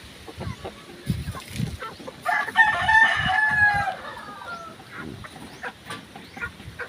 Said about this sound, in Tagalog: Kainin muna natin yung mga alaga nating mga manok.